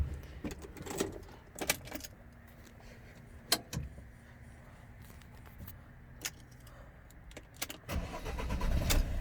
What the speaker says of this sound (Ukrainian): Автомобіль заводиться без проблем.